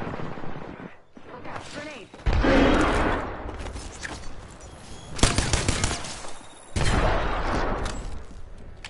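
Bursts of automatic gunfire and heavy shots in a video game firefight, loud and close, coming in several clusters with quieter gaps between them while players talk over the action.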